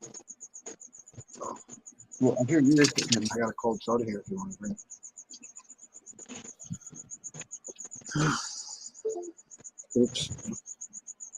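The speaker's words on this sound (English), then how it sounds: "I have a big cricket somewhere here, in the house, and it's like it's chirping over here." A big cricket indoors chirps in a fast, steady, unbroken pulse throughout, while someone talks over it and other household sounds come and go.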